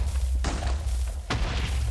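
Two booming TNT blasts in Minecraft, spaced under a second apart, each a broad burst that fades over a steady low rumble of game background.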